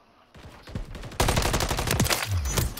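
Rapid automatic gunfire in a competitive shooter video game, dense loud bursts of shots that intensify after the first second and continue to the end.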